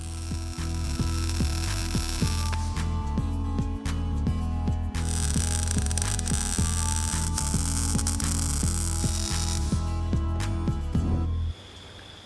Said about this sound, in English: then fully weld up the new mufflers